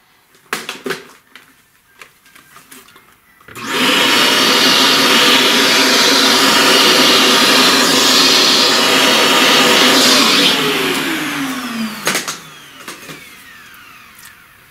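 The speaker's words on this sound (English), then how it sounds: "Alright, let's vacuum all this." A vacuum cleaner sucking up charcoal dust from a drawing switches on with a loud, steady whine that holds for several seconds and then winds down, with faint tapping before and after.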